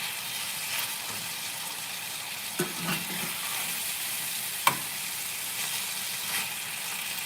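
Beef stir-fries in a pan for a chayote squash dish, a soft continuous sizzle broken by occasional scraping and clattering stirs, close and fairly quiet.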